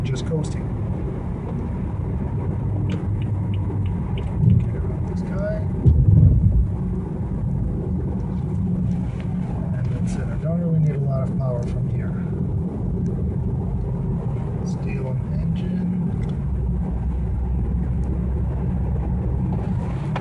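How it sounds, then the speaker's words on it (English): A 2013 BMW ActiveHybrid 3 rolls downhill at about 54 mph with its engine off, giving a steady low road and wind rumble inside the cabin, with someone talking over it. "going 54 miles an hour, a little bit downhill, the engine is off"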